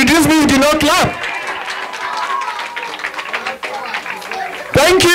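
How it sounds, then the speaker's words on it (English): Audience applause in a hall at a double anniversary celebration in Tucson, Arizona: steady clapping for several seconds, framed by a loud amplified voice talking at the start and end. "Can you clap for me?"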